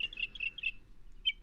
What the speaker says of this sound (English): People can usually tell when it's a mockingbird they're hearing rather than some other bird.